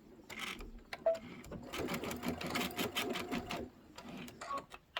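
A sewing machine stitches a quilted bench pillow, running in a close, fast mechanical whir with short starts and stops for back stitching.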